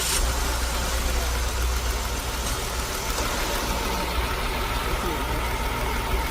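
Car engine with a suspected cylinder misfire running steadily at idle after start-up, a continuous close rumble with broadband noise and no clear pauses.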